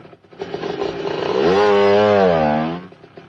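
A small motorcycle engine revs up, its pitch climbing and holding steady before easing off, heard close by with no talking.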